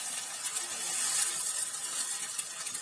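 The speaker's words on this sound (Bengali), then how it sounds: "মশলাটা ভালোভাবে কষিয়ে নিতে হবে" Garlic and spice paste frying in a pan while being cooked down for liver bhuna, a steady close hiss of sizzling oil with soft stirring scrapes, no voices.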